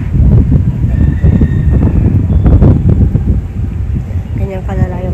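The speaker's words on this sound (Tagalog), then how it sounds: "Ganyan kalala yung hangin." Loud, blustery wind from a typhoon roars across the microphone in steady heavy gusts, with faint voices and a few scattered sounds beneath it.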